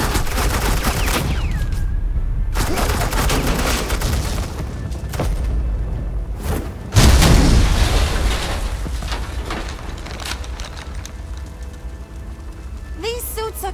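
Suppressing gunfire in the video game Batman: The Enemy Within crackles in repeated bursts, with a heavy boom about halfway through, then fades into a quieter background as voices may be heard.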